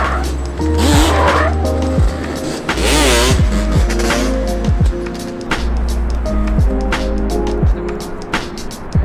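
Car traffic on a Brooklyn street in New York, with vehicles passing close by one after another, tires hissing, engines revving and a brief squeal, under a steady urban rumble.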